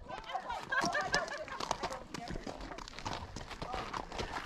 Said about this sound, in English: This is my first ride with horses to Hackberry.